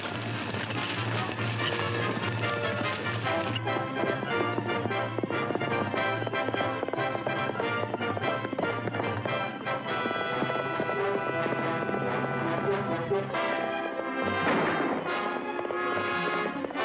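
Horses gallop steadily throughout, their hooves drumming loud and continuous within a dense wash of background sound.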